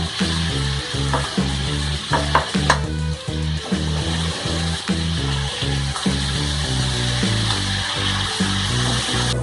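Steady, dense sizzling of tomato halves frying in a hot pan, continuous crackle with soft rhythmic pulses, close and fairly loud, no voices.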